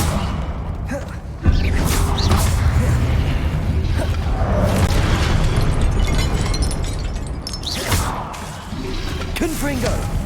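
Blasting-curse explosions in the Hogwarts Legacy video game, a loud burst near the start within a dense, continuous roar of game effects and rumble, with more blasts and whooshing bursts later.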